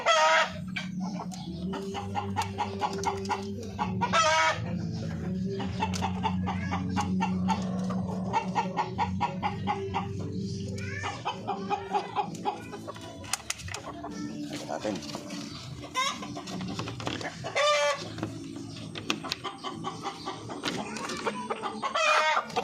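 Native darag chickens kept as breeders on a farm, fed kangkong and rice bran, clucking and squawking close by, with a rooster crowing at times and someone talking over the flock.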